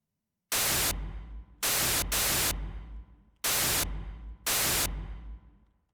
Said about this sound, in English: When we move into the past, we have a white noise.